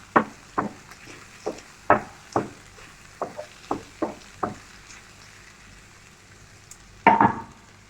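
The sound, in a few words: pepper and turmeric powder stirred in frying oil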